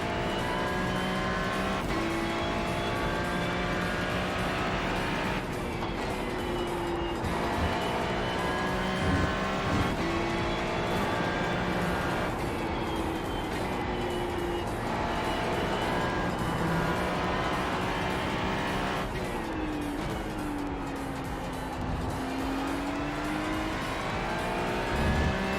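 Ferrari 296 GT3 race car at the Fuji circuit in iRacing, its engine droning steadily and loudly throughout, pitch climbing and dropping through gear changes, with downshifts and a long swooping rev dip near the end.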